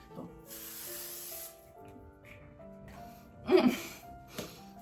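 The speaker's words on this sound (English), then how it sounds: "Last touch is my setting spray" A short burst of fine mist spray near the start, followed by quiet room sounds and a brief louder breathy noise.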